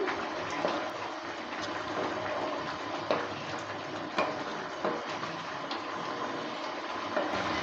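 Fried bori lentil dumplings being stirred into a mixed five-vegetable curry in a pan: a steady soft sizzle with scattered scraping clicks of the spoon, fairly close and even throughout, with no talking.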